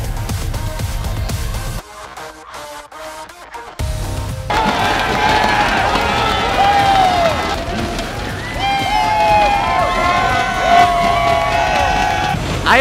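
A big arena crowd roars and cheers at a live esports match, a loud, sustained wash of voices that swells and carries whistles and shouts. A brief quieter gap comes near the start.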